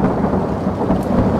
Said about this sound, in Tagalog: Bumuhos ang napakalakas na ulan at kumidlat.